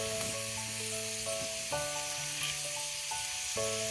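Cabbage, carrot and red capsicum strips for veg chowmein sizzle steadily in a hot pan. The frying hiss is close and continuous, and there is no talking.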